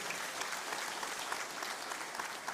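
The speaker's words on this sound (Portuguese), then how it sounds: "Vamos aplaudir a palavra do Senhor?" A church congregation applauds, a steady wash of many hands clapping, moderately distant and even throughout, with no voices over it.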